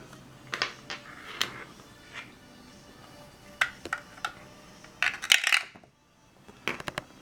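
Dice clatter and tumble through a 3D-printed dice tower in a run of sharp, rattling clicks and bounces, with bursts of quick knocks, a brief pause, then a final few taps as they settle.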